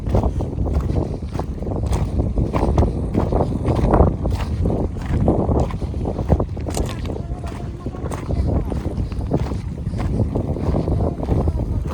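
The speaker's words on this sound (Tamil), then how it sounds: "இப்போவே காற்றடிக்க ஆரம்பிச்சிருச்சு." Wind gusting by a river near Bhavanishagar Dam, heard as continuous rough buffeting and microphone wind noise with water sounds from a coracle boat, and a person talking over it.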